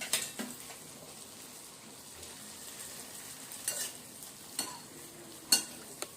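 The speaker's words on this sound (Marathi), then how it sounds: "दुसऱ्या साईडला आपण ब्रेड छान असे बारीक बारीक हे करून तळून घेत आहोत" Bread cubes frying in ghee for tomato soup croutons give a quiet, steady sizzle with light stirring, and sharper scrapes and clinks of a spoon against the pan land every second or so.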